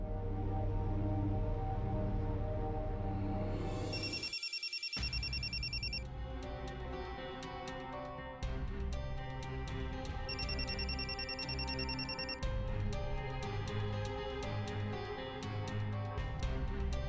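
A telephone rings with repeated bright electronic trills in spaced bursts, layered over a steady musical backing in a French-dubbed TV drama, with no one speaking.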